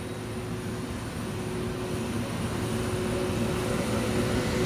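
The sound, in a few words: Toliss A321 Neo engines in X-Plane 12 video game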